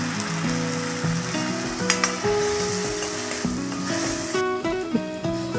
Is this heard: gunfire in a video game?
no